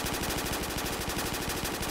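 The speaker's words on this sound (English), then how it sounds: "I like the P90, but it's so fucking loud I don't want to use it." Rapid continuous automatic fire from a P90 submachine gun in a Call of Duty match, a loud, dense, unbroken burst of fast shots throughout.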